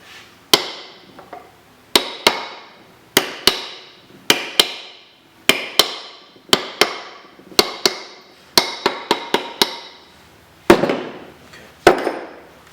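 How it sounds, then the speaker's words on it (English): Sharp metallic slap hammer strikes on an RX7 ring out close by, around twenty blows in irregular bursts, some single, some in quick pairs or runs, with quiet gaps between. "Take your own little slap hammer."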